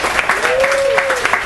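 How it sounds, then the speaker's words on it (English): An audience at a summer festival event gives a brief round of applause that is steady and fairly loud, with a voice sliding in a tone over the clapping. "a big round of applause to the Ann Arbor Summer Festival for inviting us down here tonight"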